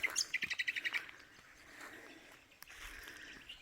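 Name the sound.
finches chirping in tree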